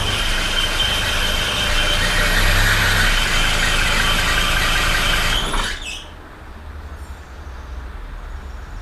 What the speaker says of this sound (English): and yeah, the belt is slipping.